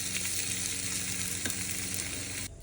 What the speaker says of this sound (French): j'aime autant que les oignons soient un petit peu rissolés, caramélisés